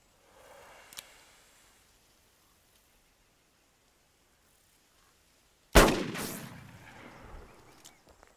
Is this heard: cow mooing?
no